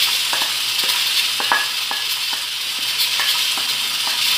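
Carne seca frying in a pan with moranga pumpkin, a steady bright sizzle while a utensil stirs and scrapes, sending short clicks and knocks at an uneven pace close by. Nobody speaks.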